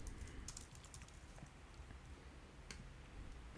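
Keys on a computer keyboard are pressed for shortcuts while working in Final Cut Pro X, a few faint, close clicky taps spread over a quiet background with no speech.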